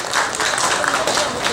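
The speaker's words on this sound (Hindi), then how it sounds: "एक जोरदार तालियों से नंदा जी का इस्तकबाल" Audience at a mushaira and kavi sammelan in a community hall in Mau applauding to welcome a poet: a short, dense burst of loud clapping from a large crowd.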